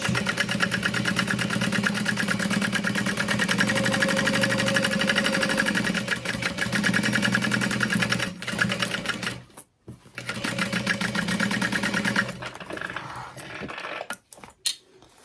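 A sewing machine bastes around the outer edge of a sling bag in a loud, steady, rapid whirring stitch that runs close for about nine seconds, pauses briefly, then resumes before slowing and stopping with a few clicks.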